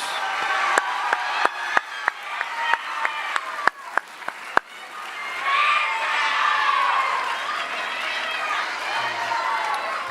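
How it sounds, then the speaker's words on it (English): At a junior high school awards ceremony, a few sharp, distinct claps ring out first, then a broad swell of crowd applause and cheering follows, with children's shouts carrying over it for several seconds. "When Valeria gets up here, we can do another round of applause"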